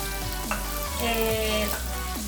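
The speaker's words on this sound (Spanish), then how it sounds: "Todas estas cosas que yo estoy dorando es para darle más sabor al mole" Ingredients for mole browning in a pan sizzle and fry loudly and close, with scraping stir strokes and a constant low hum running underneath.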